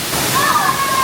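Waterfall at a zoo heard from behind the falling water, a steady broadband rush and splash with a faint tonal whine over it, fairly close and continuous.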